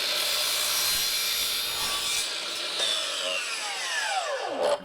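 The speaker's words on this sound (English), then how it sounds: "Now, obviously for this, we're using the miter saw." A miter saw slices through a length of wooden architrave trim, a steady high rasping whine that rises to a sharp bite at the end of the cut, close and loud with no talking.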